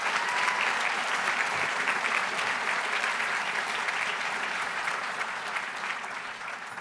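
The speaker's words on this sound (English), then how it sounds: "So would you please give a round of applause to the Clark County School District employees?" A large banquet audience at an education awards gala gives sustained, dense applause for school district employees, loud and even throughout, easing off slightly toward the end.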